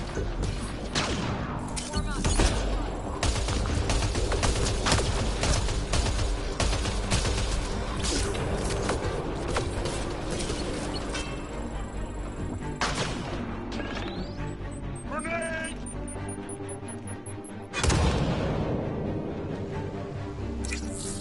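Gunfire and impacts in Mass Effect Andromeda on PS4, a busy run of sharp shots, cracks and crashes layered with game effects, dense and loud across the stretch.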